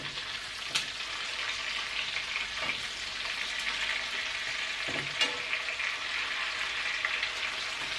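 Chicken pieces, shallots and bacon sizzle steadily in a pan for coq au vin, a continuous close hiss with occasional spatters and stirring scrapes.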